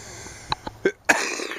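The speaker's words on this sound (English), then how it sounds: "Oh, they don't like my coughing." A person near a hen house gives a few short, dry coughs in quick succession, ending in one louder burst, close to the microphone.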